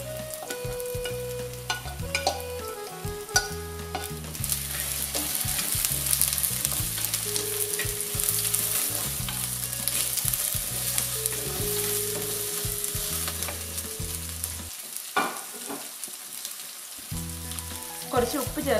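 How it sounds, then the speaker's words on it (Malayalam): Shallots and green chillies fry in a pan for Kerala fish curry, a continuous bright sizzle with occasional stirring scrapes, under steady background music. "ഇതിലേക്ക് ചുവന്നുള്ളിയും പച്ചമുളകും ഇട്ട് കൊടുത്ത് വഴറ്റിയെടുക്കാം"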